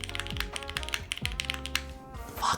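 Keystrokes on a custom F1 8x mechanical keyboard, a rapid close-up run of deep, bassy clacks with brief pauses, no talking.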